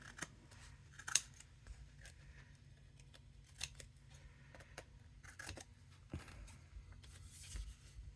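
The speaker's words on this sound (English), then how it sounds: "If it looks a little long, still just come back and trim it some more." Scissors trimming paper for a scrapbook craft layout, quiet close snips repeating irregularly, with faint rustling of paper in between.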